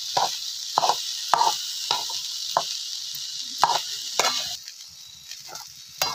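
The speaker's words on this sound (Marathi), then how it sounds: "आणि आता आपण याला सगळा असा एकजीव करून घ्यायचा आहे परतून." Drumstick vegetable (shengsola) stir-fried in a pan: a soft sizzle under repeated sharp scrapes and taps of a spatula against the pan, close up, with no talking.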